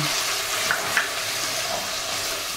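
Ginger garlic paste with curry leaves sautéing in a pan for a village-style country chicken curry, a steady close sizzle with a couple of faint scrapes of stirring, no voices.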